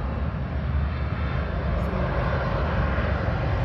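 An airplane passes near Suvarnabhumi Airport in Bangkok, its engines giving a steady, loud broadband roar that holds evenly throughout without talk.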